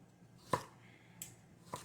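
Kitchen knife slicing chicken noodle soup ingredients into quarter- to half-inch pieces: a few separate crisp cuts against a board, one sharp and close followed by two softer chops, spaced apart with quiet between.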